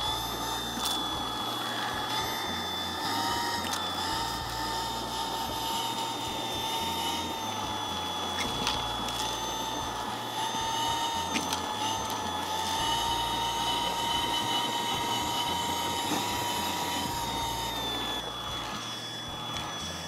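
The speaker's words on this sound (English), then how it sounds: "This brush is doing a great job being able to suck up dirt and debris from deep within the fibers of the carpet" A MOOSOO K23 Pro cordless stick vacuum cleaner runs steadily on carpet, a close, constant high-pitched whine with a motor hum and faint brushroll rattle, its pitch wavering slightly throughout.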